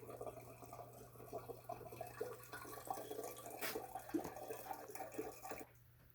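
Beer siphoning from a primary into a secondary fermenter for dry hopping, a steady soft trickle and gurgle of liquid running through a tube, continuous and fairly quiet, with a low hum underneath and no voices.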